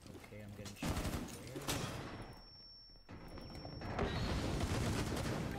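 Video game gunfire lands around the player in dense, loud crackling bursts that fade briefly and then resume as rapid fire, with a high electronic tone sounding through the middle.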